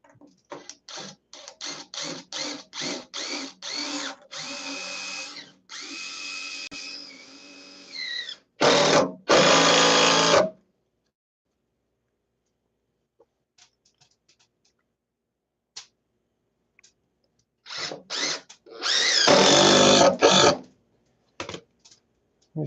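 Short bursts from a power drill boring pilot holes into a knotty live-edge wood top for a workbench, several quick whirs and grinding pulses separated by pauses and long stretches of near silence.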